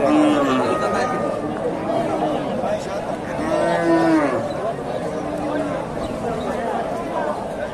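Cows low repeatedly at a busy livestock market in Dhakumara, Bogura, several drawn-out moos rising over a constant crowd murmur and nearby chatter, with people talking close by.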